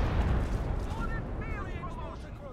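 Gunfire hits a mortar pit during a Company of Heroes 2 battle, a dense rumbling barrage of battlefield booms and blasts that continues throughout, with speech present.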